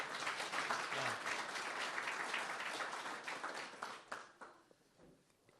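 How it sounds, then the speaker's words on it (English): Outdoor crowd applause at a mayor's ribbon cutting for a park development, a faint, distant, steady patter of many hands that thins out and fades toward the end. "Let's give him a round of applause"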